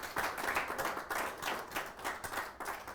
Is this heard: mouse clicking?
no